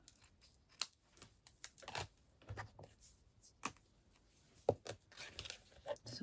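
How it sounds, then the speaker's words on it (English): Metal craft snips cutting through card stock, making a series of crisp, close snips and crunches in an irregular rhythm, with no talking. "So bring in my snips, just chop that along there, and then cut that in half."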